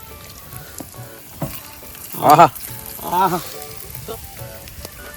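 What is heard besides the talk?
quail frying in hot oil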